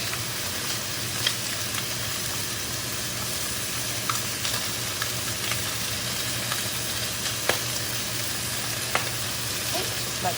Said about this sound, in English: my udon is starting to come to a boil